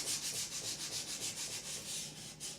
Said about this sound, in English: You don't want to sand too wildly